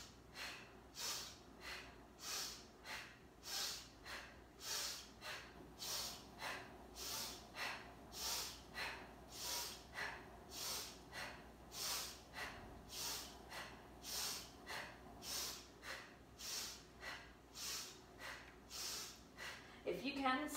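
Slow, paced breathing repeats in an even rhythm, with about fifteen soft, close breaths, each with an airy rise and fall, at a quiet level.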